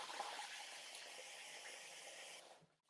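Hot water runs from a tap in a steady close rushing hiss to soak a face cloth, then cuts off near the end.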